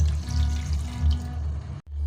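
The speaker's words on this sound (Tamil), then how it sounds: "இப்போ தண்ணி ஊற்றிக்கலாம்" Water pours in a steady stream into a cooking pot for beef biryani, then cuts off briefly near the end before flowing again.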